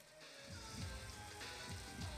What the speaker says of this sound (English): The rain only intensifies, despite the shower beginning over an hour ago.